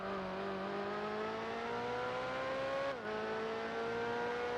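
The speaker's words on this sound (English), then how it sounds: "This is a M3 GTR. This is barely a race car." A BMW M3 GTR race car engine in Gran Turismo 4 drones steadily as it accelerates, its pitch rising, then briefly dropping at a gear shift before climbing again, heard alone.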